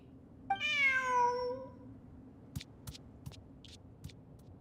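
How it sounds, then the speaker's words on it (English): A cat in a video game gives one clear, drawn-out meow, followed by a few faint short ticks and clicks against a quiet hum. "Who's a good kitty?"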